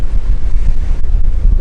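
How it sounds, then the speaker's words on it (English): Heavy wind buffets a Rode VideoMicro microphone outdoors near palm trees in a constant low roar with rumbling gusts, loud and close throughout. "Show you up in the palm trees how windy it is. This is nuts."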